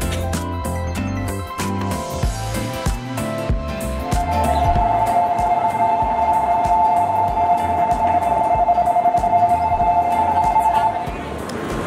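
Inside the front carriage of a Shinkansen bullet train on the way toward Mount Fuji, a continuous low rumble of the ride carries a steady hum and some faint clicks. The sound grows somewhat louder partway through.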